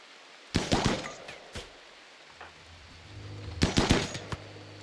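Two short bursts of RimWorld gunfire, rapid sharp cracks like a quick volley, the first early and the second near the end, separated by a low hum and quieter background.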